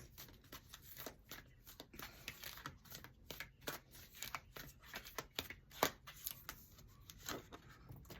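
Tarot cards are shuffled and drawn, soft close riffling and flicking of card stock in quick irregular bursts, faint and without voices.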